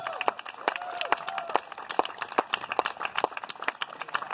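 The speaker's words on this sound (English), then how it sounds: "And I think that deserves a cheer." Scattered audience clapping at a community college gathering, loose and uneven with sharp individual claps standing out rather than a dense roar, moderately near, with faint chatter mixed in.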